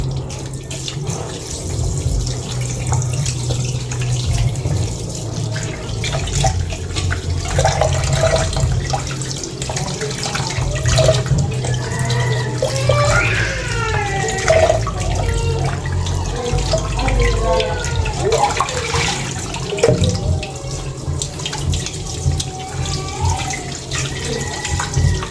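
Boiled buffalo meat is rinsed under a running kitchen tap, giving a continuous close splashing stream with varying gurgles and drips as the pieces are turned by hand.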